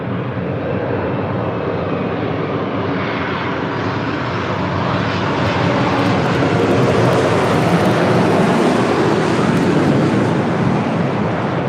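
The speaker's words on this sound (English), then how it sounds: "It's the flight coming in from Paris and 787-9 Dreamliner with Air Tahiti Nui." An Air Tahiti Nui Boeing 787-9 Dreamliner jet arriving from Paris at LAX, a loud, steady broadband roar of jet engines that swells slightly toward the middle and holds without talk.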